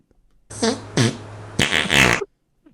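Two short farts followed by a longer, louder, rattling one, close and prominent with no talking over them.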